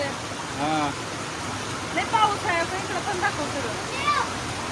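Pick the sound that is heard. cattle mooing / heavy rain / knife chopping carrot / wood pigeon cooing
heavy rain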